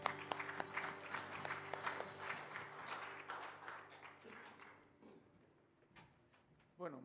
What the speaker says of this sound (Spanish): tu iglesia te reconoce con un fuerte aplauso